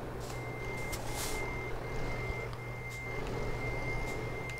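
Reversing beeps from a truck in Euro Truck Simulator 2, a steady repeating electronic tone over a constant low engine rumble, with no one talking.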